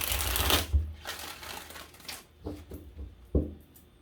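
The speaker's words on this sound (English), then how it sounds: "5 shuffles for you, Sag." Cards are shuffled up close in several quick riffling bursts, with sharp taps of the deck between them.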